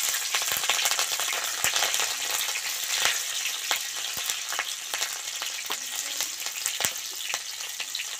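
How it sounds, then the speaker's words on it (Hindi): Green chillies frying in hot oil with bay leaf and cumin, a steady soft crackling sizzle with scattered sharp pops, close and fairly quiet, no voices. "हरी मिर्ची को थोड़ी देर भूनने देती हूँ"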